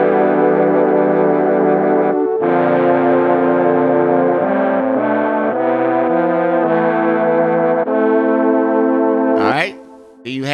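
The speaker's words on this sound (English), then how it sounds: "I decided to use horns so I could make it sound orchestral." Sustained brass horn chords with an orchestral feel, held and shifting through several changes, loud and continuous with no talk, from a hip-hop beat, ending with a brief break near the close.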